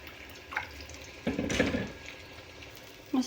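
Water is poured onto fried tomato paste in a pan, giving a short, fairly close splashing and bubbling burst that fades, then a brief second sizzle near the end.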